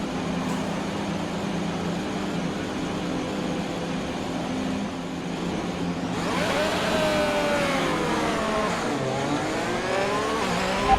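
Formula 1 race car engine in the F1 2021 game at the Russia round, droning steadily, then revving hard through the gears from about six seconds with rising and falling pitch sweeps, loud and close, with no talk.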